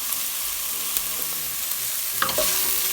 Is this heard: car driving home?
no